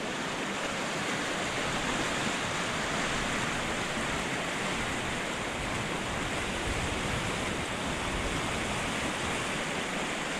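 A swollen Mixteco river in Oaxaca, in flood after a dam was washed away, rushes below a suspension bridge as a dense, unbroken roar of water, steady and loud throughout with no voices.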